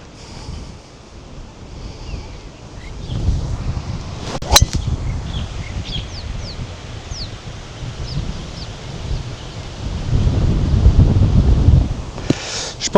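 Wind gusts across an open golf course, buffeting the microphone in low rumbling swells that build and ease, with a few faint clicks and distant sounds beneath.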